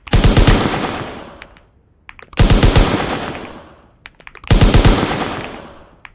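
Automatic gunfire while shooting in a video game, three loud rapid bursts, each lasting about a second and separated by short gaps with faint clicks.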